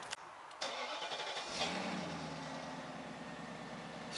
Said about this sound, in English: We could do a cold start.